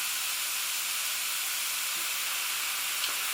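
Courgette slices fry in oil as their moisture steams off, making a constant, even sizzling hiss with one or two faint soft knocks and no voices.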